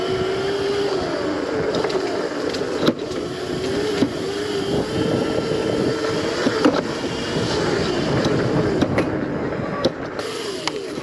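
A Sleeper MX650 motorcycle with a new rear shock rides over a rough, bumpy road, making a steady engine and wind drone broken by occasional sharp knocks and jolts, with no talk.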